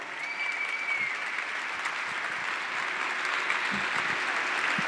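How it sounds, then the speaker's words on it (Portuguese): Audience applause for a guest called onto the stage at a literature talk event, steady dense clapping filling the hall without letup from start to finish. "Palmas para o Carpinejar."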